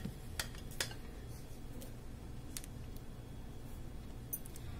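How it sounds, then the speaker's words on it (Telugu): A mixer grinder jar is handled in a home kitchen while mango ice cream is prepared. A few faint clinks and light taps sound over a low, steady background hiss. "ఒక మిక్సీ జార్ తీసుకుందాము।"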